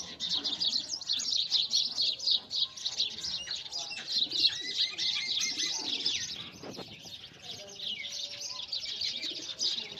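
Caged pigeons on a pigeon farm coo and chirp steadily throughout, with occasional wing flaps and a faint voice in the background.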